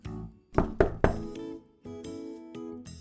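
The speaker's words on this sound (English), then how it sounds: "she heard the knock on the door" Three quick knocks on a door, then a soft clunk followed by a short musical chime, all from the animated game Arthur's Puppet Theater, with no talking.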